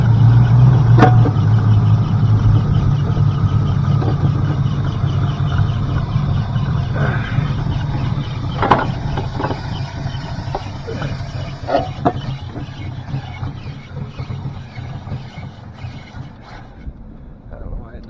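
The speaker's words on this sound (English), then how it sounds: "now it sounds all nice and good when cold started. Yeah, RPMs sound nice." A Lincoln car engine runs after a cold start, a steady low hum that slowly fades, broken by scattered clanks and knocks nearby.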